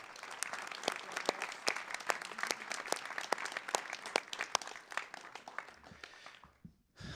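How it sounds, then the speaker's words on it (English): Audience applause fills a National Honor Society induction ceremony for the class of 2019, a steady wash of many hands clapping with sharp individual claps standing out, sustained for several seconds before cutting off abruptly near the end. "Let's give them all a round of applause."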